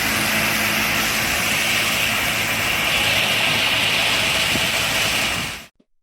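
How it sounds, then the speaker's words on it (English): A sugarcane harvester's engine runs in the field while its rotating blades cut through thick cane, making a loud, steady broadband roar that holds constant before cutting off abruptly near the end. "It is a specialized harvester cutting through the thick crops effortlessly with its rotating blades."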